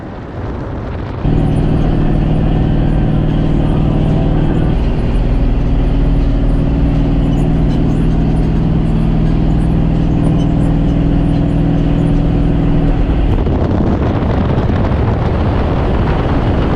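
A Chevrolet Suburban cruises at 70 mph down a highway, towing a trailer. A steady, loud low road drone with engine hum and wind noise runs continuously, and the volume jumps up early on.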